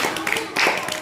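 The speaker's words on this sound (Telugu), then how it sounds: "క్లాప్స్ కొట్టండి తనకి" Schoolchildren in a classroom, grades 3 to 5, give a short burst of clapping for a game winner, with the claps mixed in with nearby voices.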